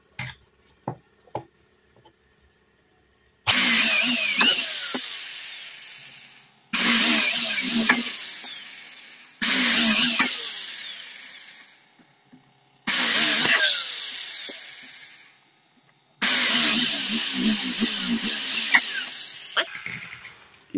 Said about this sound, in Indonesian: Ya, di sela-sela ini kita lubangin.